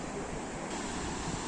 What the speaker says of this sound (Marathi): खूप सुंदर आणि स्वच्छ किनारपट्टी कुणकेश्वरला